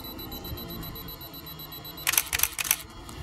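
A Canon camera's shutter fires three quick bracketed HDR exposures outdoors, three close, crisp mechanical clacks in rapid succession after about two seconds of quiet background hiss.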